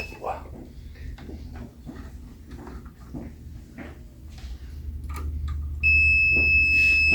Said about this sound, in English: Why am I getting a beep?